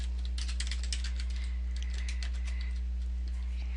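Fast keystrokes on a computer keyboard as a password is entered, a quick run of light clicks over a steady low electrical hum.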